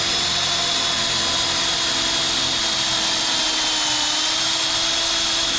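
Power drill boring out a worn spindle bushing on an International Harvester Hydro 84 tractor, a steady loud whine with a harsh grinding edge running unbroken, close up and without talk.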